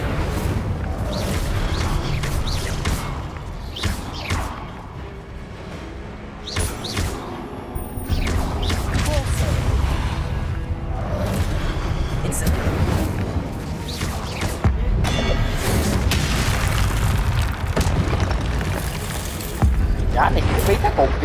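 Incendio fire spell cast in the video game Hogwarts Legacy: loud bursts and heavy thumps rise out of dense combat noise, with a voice talking over the action throughout.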